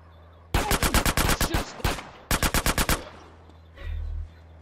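Video game gunfire from GTA San Andreas, rapid automatic bursts in two loud volleys with a couple of single shots between, followed by a short low rumble; no voices.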